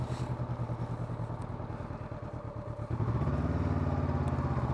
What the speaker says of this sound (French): Laisse partir la moto, comme un slalom.